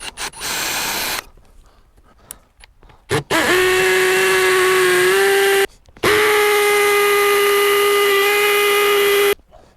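A power drill bores pilot holes into a wall for mounting brackets, two sustained whining bursts that rise in pitch and hold steady, separated by short pauses and faint handling knocks.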